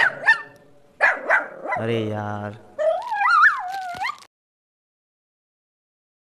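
A dog barks and whimpers in short yelps and whines mixed with a man's exclamation, then the sound cuts to silence.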